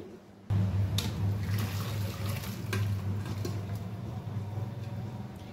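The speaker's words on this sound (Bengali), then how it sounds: "এটারও জলটা ঝরিয়ে নিই।" Water drained off boiled chicken, a steady close pouring and splashing stream that starts abruptly and runs evenly throughout, with faint clinks of a pot.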